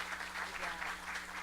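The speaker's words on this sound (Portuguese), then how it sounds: "Vamos recebê-la com uma salva de palmas" Brief patter of audience clapping welcomes a speaker at an academic debate, soft and steady for a moment under a low room hum.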